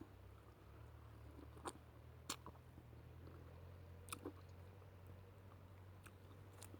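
Close, soft wet chewing of Kalon mango flesh, a few crisp bites and squelches over a low steady hum, faint and intermittent with no talking.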